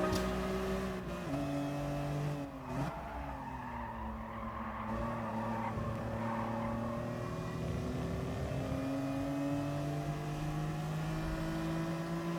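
A BMW M3 race car engine in Gran Turismo Sport at Bathurst, revving hard with rising and falling pitch through gear changes, a brief dip partway through, then steady high-rpm drone, loud and close without voices.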